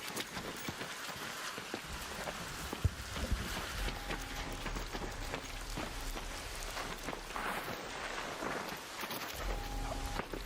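Steady rain in a video game hisses throughout at moderate level, with occasional sharper taps and brief low thuds, and no talking over it.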